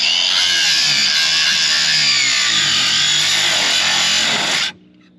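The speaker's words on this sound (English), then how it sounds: "Let's hack this goofy dually fender off." A power tool cuts off the dually fender of a forgotten 4x4 Ford Ranchero. It gives a loud, continuous, harsh whine for nearly five seconds, then stops abruptly.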